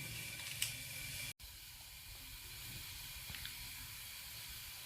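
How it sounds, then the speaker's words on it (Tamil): Cumin seeds sputter in hot oil and ghee, a faint steady hiss and sizzle with a few small pops and a brief dropout, no speech. "ஜீரகம் பொரிஞ்சு வருது"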